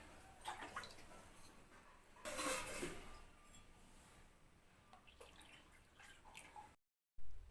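A cup of water is poured into a mixture in a kitchen, giving a brief splashing gush in the middle, with drips and light clinks before and after. The sound is quiet and close, and no one speaks.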